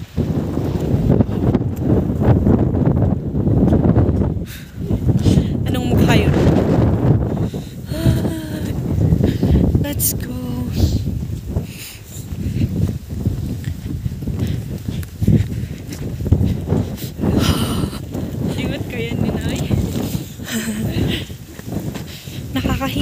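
Strong gusting wind buffets the microphone on a cold, windy afternoon walk outdoors, a loud, uneven roar that swells and drops for the whole stretch, with footsteps and occasional talk beneath.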